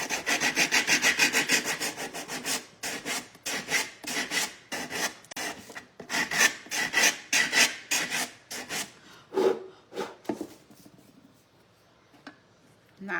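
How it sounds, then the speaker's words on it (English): A small sander works a wooden piece for a bird hotel craft project, making a close, rasping scratch in quick repeated strokes that pause briefly and then resume. "So I'm going to sand this just a little."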